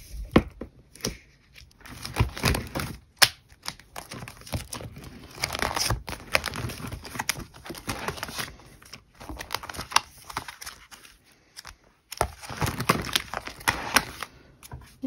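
Blackpink photocards being slid into plastic binder sleeves: continual close crinkling and rustling of plastic, with sharp snaps and crackles in irregular bursts and short pauses between.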